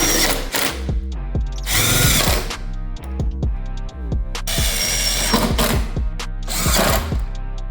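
A power drill driving fasteners into a racing arcade cabinet part, repeated loud whirring bursts that rev up and cut off, separated by short pauses and mechanical clicks.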